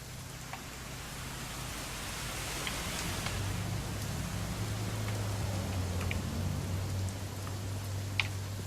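Steady rain falls in the video game What Remains of Edith Finch, a dense, even hiss of drops that holds at the same moderate level throughout, with an occasional sharper patter and a low hum beneath.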